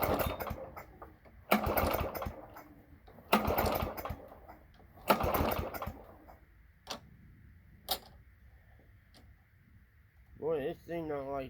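A Toro lawn mower engine cranks over in cold weather in the 40s, a few loud bursts of cranking separated by pauses and quieter ticking, with a brief engine catch near the end.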